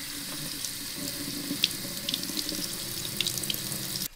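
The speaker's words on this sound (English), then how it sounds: "Now it says to run warm water over the grow medium for 30 seconds." Warm tap water running from a faucet over a hydroponic grow medium into a sink, a steady close splashing stream that cuts off abruptly at the end.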